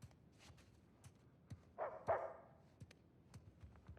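A dog barking in Uncharted 4, two or three loud barks close together against quiet household ambience with scattered soft clicks and footsteps.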